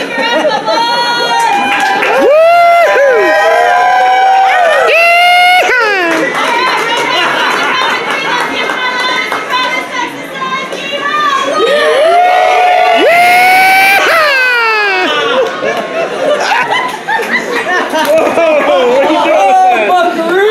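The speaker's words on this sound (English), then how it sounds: "Can we give him a round of applause?" A restaurant crowd cheers, whoops and claps for a 71st birthday, loud and close, with shouted voices and chatter mixed through the applause for the whole stretch.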